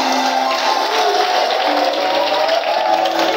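Church congregation at a Sunday service cheering and acclaiming, a dense steady crowd roar of voices and shouts filling the room throughout, without a clear single speaker.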